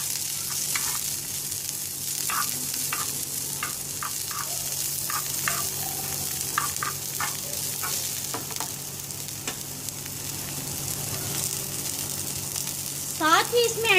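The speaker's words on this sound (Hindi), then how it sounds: "गाजरें और शिमला मिर्च, ये तीनों चीज़ें इसमें ऐड कर दीजिए। और इनको फ्राई कर लीजिए।" Carrots and bell peppers fry in a pan with a continuous sizzle, broken by repeated scraping and stirring strokes. A clatter near the end rises above the hiss, and there is no talk.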